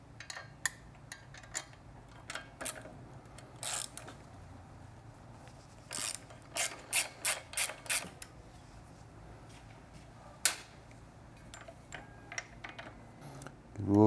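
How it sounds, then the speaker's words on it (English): Ratchet wrench turning a 6mm hex bit to loosen an exhaust bolt on a Triumph Street Twin 900 motorcycle, giving quick bursts of sharp clicking and creaking close up, with a run of rapid clicks in the middle and quieter pauses between. "using our 6mm hex bit"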